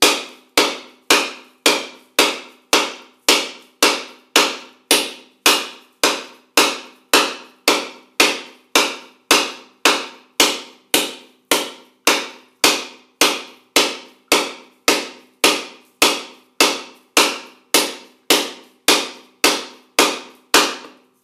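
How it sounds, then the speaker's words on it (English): Coconut shell struck steadily with a hammer-like tool to crack it open, about forty sharp, evenly spaced knocks at close range, with no voices. "At a certain point you will notice it will crack open."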